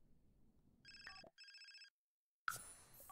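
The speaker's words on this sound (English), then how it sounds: "the principal is calling me on the phone" A phone ringing in the video game The Sims 4: two clean electronic ring bursts with a short gap between them, followed by silence and then a sudden burst of game noise.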